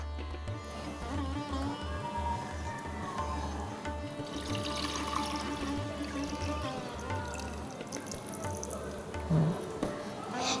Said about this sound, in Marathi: आता मग मी पाणी घालणार